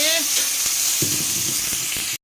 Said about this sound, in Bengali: চলো এবার আলুটা ভেজে নিই